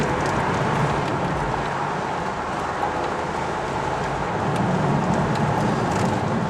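A Maserati Cambiocorsa Spyder drives through the city in Murrieta, California. Its engine and road noise form a steady, even roar that fills the cabin, with no voices over it.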